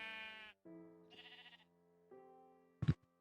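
Sheep in the Minecraft video game bleat several times in a row, with clean, steady game tones, and a sharp click ends the run.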